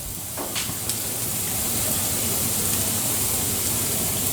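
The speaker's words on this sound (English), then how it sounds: "Throwing more of that ghee on, give it that lovely flavour." Ghee sizzles in a hot pan under a makai paratha, a steady close hiss that swells slightly, with a couple of brief crackles near the start.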